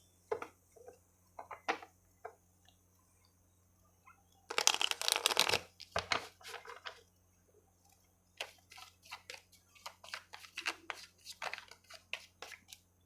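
Tarot cards are shuffled in quick riffling bursts, a loud dense flurry in the middle followed by a longer run of crisp flicks and taps, close and otherwise quiet.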